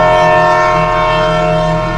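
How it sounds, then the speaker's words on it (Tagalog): A loud, sustained horn blares continuously on a road, a steady droning blast with no pauses. "At sa isang iglap, may malakas na busina."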